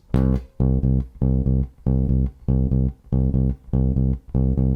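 Low bass guitar notes in a bouncy blues shuffle rhythm, eight even plucked pairs repeating on the same root, played alone and close.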